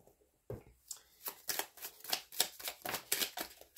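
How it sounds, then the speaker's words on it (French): Oracle cards being shuffled by hand, a quiet, close series of rapid riffling flutters and soft slaps in an irregular rhythm, with no voice over them. "Je vais vous sortir une dernière petite carte ici."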